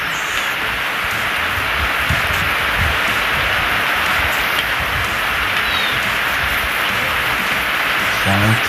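Steady rainfall ambience from the video game ARK, a constant loud hiss of rain with scattered low thumps and faint animal calls, while someone talks over it.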